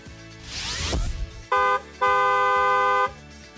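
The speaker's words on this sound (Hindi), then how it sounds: "दूसरों को भी सावधान करने के लिए हॉर्न बजाएं" A vehicle horn honks twice in Pahalgam, Jammu and Kashmir, a short blast then a longer one, loud and close, following a passing whoosh of traffic.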